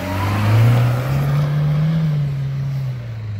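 An off-road vehicle engine revs close by, climbing to a strong, steady drone before easing off slightly and holding, loud and alone without talk.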